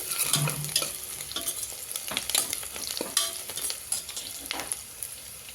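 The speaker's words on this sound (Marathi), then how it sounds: "ह्याच्यामध्ये आपण मिरची ॲड करून घेऊ अजून थोडा लालसर होईपर्यंत असं परतून राहायचं" Onion and green chili fry in a pan for a mutton biryani, stirred steadily with scraping clinks of a spoon over a continuous, close sizzle, with no talking.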